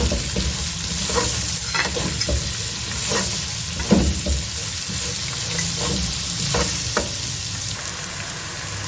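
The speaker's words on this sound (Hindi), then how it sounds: "प्याज को भी आपने अच्छे तरीके से फ्राई कर लेना" Onions sizzle and crackle steadily in hot oil, with occasional stirring scrapes and clinks of a spoon against the pan.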